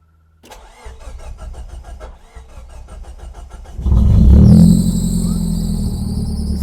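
A Nissan 200SX running on a homemade programmable ECU cranks over with a rhythmic starter whir, then catches and fires up into a loud, steady idle close by.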